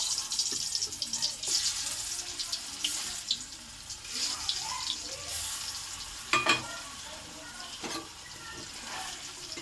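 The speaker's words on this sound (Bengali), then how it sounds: "আমার তেলটা গরম হয়েছে, আমি হালকা ভাজবো, ভেজে নেওয়া হবে।" Steady, bright sizzling of rasgulla frying in hot oil, with a few sharper crackles and clinks rising over the continuous hiss.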